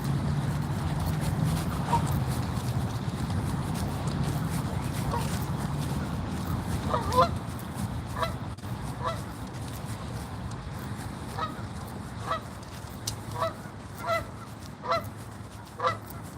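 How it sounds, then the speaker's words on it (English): Geese honking outdoors at a lake while fishing, heard as repeated short honks scattered across the clip, moderately distant, over a low steady background rumble. "Only problem with the geese."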